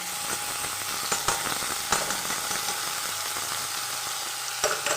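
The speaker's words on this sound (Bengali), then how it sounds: "একসঙ্গেই ভালো করে কষাটা হয়ে যাবে মশলাটার সাথে, মাংসটা আর মশলাটা" Chicken mince sizzling and frying in a pan with crushed ginger, garlic, chopped tomato and spices for a Bengali chicken keema matar, a steady close hiss with occasional stirring clatters, no talking.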